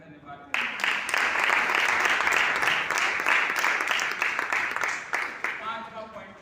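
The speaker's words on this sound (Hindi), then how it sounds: "अभी ताली मारे में धन्यवाद।" Congregation applause at a church fire revival service, a dense burst of clapping that rises quickly, holds steady for several seconds, then thins out near the end.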